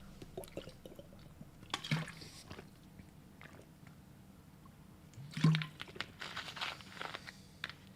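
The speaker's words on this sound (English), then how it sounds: "So now I think you just heard the random water bottle noise." Plastic water bottle handled and sipped from, with soft crinkles, liquid sloshes and small clicks in two brief bursts amid quiet, close-up room sound.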